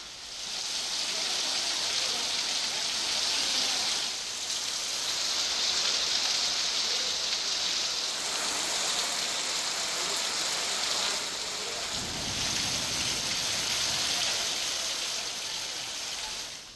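Heavy, continuous monsoon rain falls over the Melghat area near the swollen Sipna river, a dense, steady wash of hissing water that never lets up across the whole stretch.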